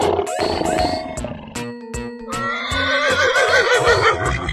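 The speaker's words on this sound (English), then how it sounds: "Horse." A horse neighs in a long, high, quavering whinny that rises and trembles before fading, heard alone and fairly loud among wild-animal sound effects.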